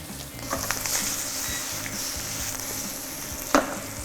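Chicken livers sizzle in a pan of caramelized chorizo and its oil, a steady close frying hiss with a few soft clinks and a brief louder crackle near the end, no talking.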